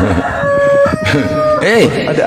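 A rooster crows once, a short rising-and-falling call that rings out loud and close near the end, following a sustained tonal note and mixed with other nearby sounds.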